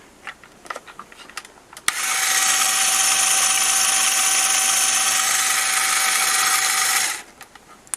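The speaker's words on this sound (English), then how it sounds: "the motor's going through these beveled gears" A LEGO motor spins bevel and pinion gears in a steady, high whirring grind lasting about five seconds, with light plastic clicks before it starts and after it stops.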